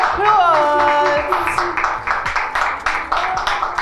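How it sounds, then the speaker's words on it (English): A live Afrobeats event audience welcomes a performer to the stage with a rising whoop followed by close, loud, rhythmic clapping that continues in uneven bursts. "Give a round of applause."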